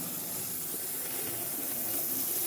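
Steady rotary grinding hiss on lead inside a model locomotive, a continuous close, loud whine with broadband noise and no pauses.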